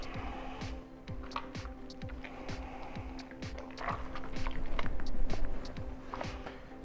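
Hands work pizza dough of flour and water in a bowl, giving soft, faint, irregular squishing and slapping sounds over steady room noise.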